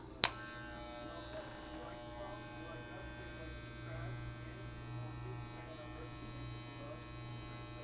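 Electric hair clippers running on a haircut, a steady close mechanical buzz with a sharp click as they switch on, the blades catching; a voice talks faintly beneath.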